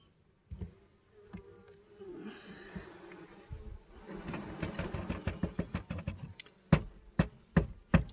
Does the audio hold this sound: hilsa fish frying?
no